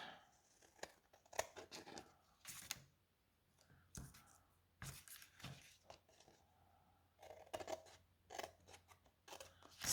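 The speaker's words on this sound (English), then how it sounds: "snip off all the bits" Scissors snip off the excess bits of glued-down paper pieces in sharp, crisp cuts that come in irregular bursts with pauses between, close and quiet, with light paper rustling.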